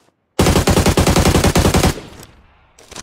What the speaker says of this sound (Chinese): 一波扫射击倒两个